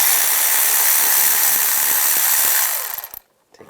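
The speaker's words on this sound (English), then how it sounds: "We're going to use a 10mm socket." A ratchet fitted with a 10mm socket loosens a bolt on a 1996-2002 Toyota 4Runner engine, a quick train of fine clicks ticking under a steady hiss before stopping with a few last clicks.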